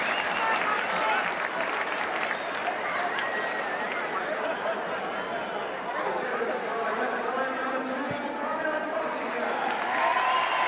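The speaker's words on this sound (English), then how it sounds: "Frano Bottiger has scored, much to the delight of this Wigan crowd, in the right-hand corner." A Wigan crowd at a rugby league Lancashire Cup match against Barrow cheers and applauds after a try in the right-hand corner, a dense, steady roar of many voices and clapping heard from a distance, with commentary over it.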